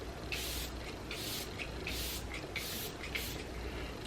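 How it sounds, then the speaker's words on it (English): A Glow Recipe Watermelon Glow ultrafine setting mist is sprayed in about six quick, soft hissing bursts at a steady rhythm, close and fairly quiet. "My favorite right now is the Glow Recipe Watermelon Glow Ultrafine Mist"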